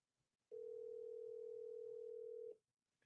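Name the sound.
phone call ringing tone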